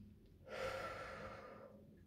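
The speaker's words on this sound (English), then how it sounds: "you'll just take a deep breath" A single deep inhalation, soft and close, taken while changing a Dexcom G6 sensor and t:slim insulin pump set, swelling quickly and then tapering off over a couple of seconds with no talking.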